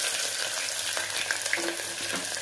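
Cinnamon, cloves and sliced onion fry in oil in a pan, giving a steady crackling sizzle with a few soft stirring scrapes.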